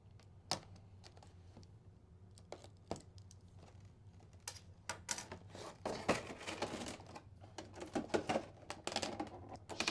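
Box tape on a Hatsune Miku 1/4 scale figure box being cut, heard as a run of close, sharp scratchy slices and crinkles that grow busier and louder toward the end, with no talking.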